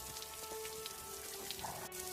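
Steady light rain pattering on a surface, faint and even, with soft scattered drops and a low continuous hum beneath, no voices.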